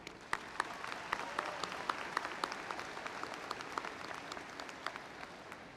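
Applause from a high school graduation audience of families, friends and guests, a steady wash of many hands clapping at moderate distance, fairly soft, with a few sharper individual claps standing out.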